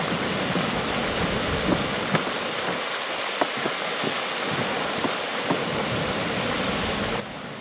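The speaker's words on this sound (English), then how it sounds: "Listening to the bubbling." Continuous watery rushing with soft bubbling pops and small bursts from a hot spring, steady and fairly loud, with no voices.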